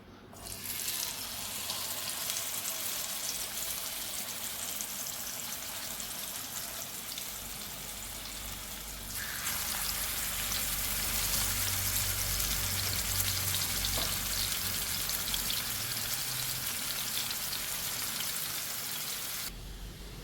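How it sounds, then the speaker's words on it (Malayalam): Masala-coated fish frying in hot oil, a steady, dense sizzle that swells louder partway through and holds close and constant, with no voices. "ഇനി ഓയിൽ ചൂടായാൽ നമുക്ക് നമ്മുടെ മീൻ ഇട്ട് കൊടുക്കാം"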